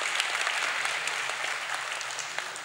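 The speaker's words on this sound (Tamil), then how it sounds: "நல்ல ஒரு தடவை கைதட்டி அவரை பெருமைப்படுத்துகிறேன்" Audience at a book launch for a film director's cinema journey gives steady, dense applause throughout, a continuous crowd of clapping at moderate distance with no voices over it.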